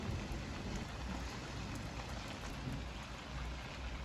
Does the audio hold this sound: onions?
no